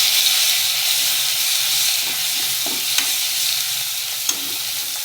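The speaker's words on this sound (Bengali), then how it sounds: "ফোড়নে দিয়ে দিচ্ছি গোটা জিরে আর শুকনো লঙ্কা।" Whole cumin and dried chillies sizzle in hot oil as a tempering for sour amra dal, giving a loud, steady frying hiss with a few faint stirring clicks and no talking.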